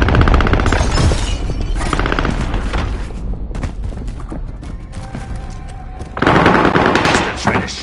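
Enemy gunfire in a video game rattles loudly at the player: sustained machine-gun bursts with booming shots, easing off briefly in the middle before a fierce volley returns.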